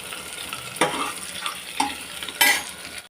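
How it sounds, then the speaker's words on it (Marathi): Onion fries in oil in a pan with a soft steady sizzle, broken by a few sharp scraping stirs of a spoon, the last one louder. No one talks. "कांदा चांगला लाल भाजून घ्यायचा तेलात"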